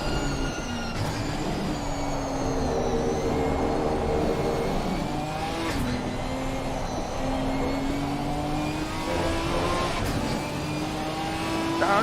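A Ginetta GT4 race car in a racing video game at the Nürburgring, its engine droning steadily under load with rising and falling gear pitches and sharp shift changes, loud and continuous throughout.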